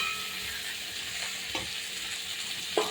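Large-cut potato pieces frying in a pan, partly covered, make a soft, even sizzle with a couple of brief utensil taps.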